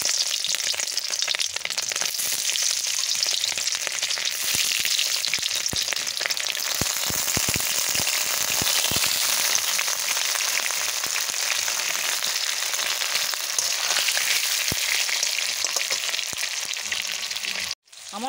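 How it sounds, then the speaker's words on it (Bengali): Boiled pointed gourd (potol) pieces frying lightly in hot oil give a steady, loud, dense sizzle that runs nearly the whole time, with occasional sharp crackles and pops, then cuts off abruptly at the end. "এইবার আমি পটলগুলোকে একে একে এইভাবে তুলে দিয়ে ভেজে নেব হালকাভাবে।"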